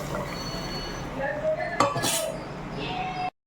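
Prepared ingredients are tipped into a pan of tempering with turmeric: a utensil clinks sharply against the pan, followed by a short burst of sizzling before the sound cuts off.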